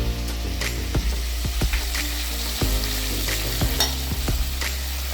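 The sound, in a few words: chopped garlic frying in melted butter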